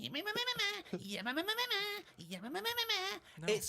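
Voice imitating the noise of Stevenson's Rocket locomotive, a rising and falling wavering vocal sound repeated in two long swells, close and fairly loud.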